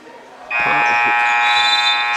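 A loud, sustained buzzer at a girls' high school basketball game cuts in sharply and holds steady to the end, with faint crowd and voices under it.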